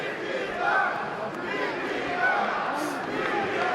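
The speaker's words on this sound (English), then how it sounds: "Crowd offering support for Nikita Krylov here late in the second round." Arena crowd at an MMA bout roars in support of Nikita Krylov late in the second round, a continuous, moderately loud swell of voices and cheers from a large audience that stays steady throughout.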